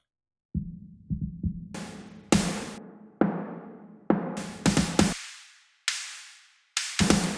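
Snare hits, separated by silence, repeat in an uneven pattern. Some sound muffled and low, others bright and hissy, as if filtered to different frequency bands.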